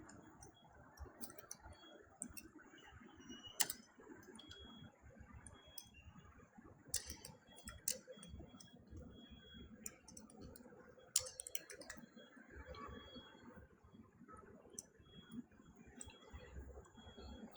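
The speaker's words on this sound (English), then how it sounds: "simply type in this command." Faint keystrokes on a computer keyboard as a command is typed, sparse irregular clicks with a few sharper taps over a quiet background hiss.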